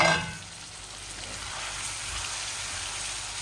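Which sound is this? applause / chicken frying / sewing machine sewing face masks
chicken frying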